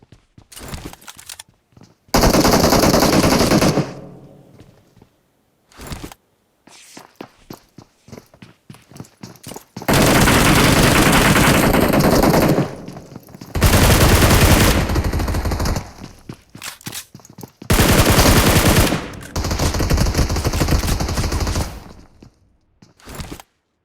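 Game gunfire in a BGMI squad fight, with loud sustained bursts of automatic fire alternating with shorter spells of scattered shots and footsteps.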